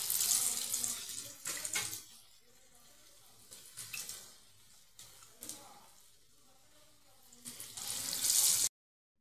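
Bread pakora coated in batter deep-fries in hot oil, a hissing sizzle that rises and falls in uneven bursts and swells loudest toward the end.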